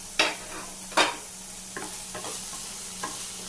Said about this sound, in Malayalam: മൂടി വെച്ച് വേവിച്ചാലും ഇടയ്ക്കൊന്ന് ഇളക്കി കൊടുക്കാം.